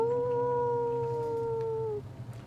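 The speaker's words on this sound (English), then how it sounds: "You shout out for about 10, 15 minutes or so before you hear a distant howl." One long wolf howl rises and holds for about two seconds before fading, with a low rumble underneath.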